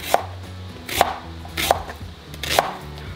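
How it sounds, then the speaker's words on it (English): A knife slices onions thinly on a cutting board, four crisp evenly spaced chops about half a second to a second apart, close and distinct, with no talking. "So I am just having these and then slicing them kind of on the thinner side."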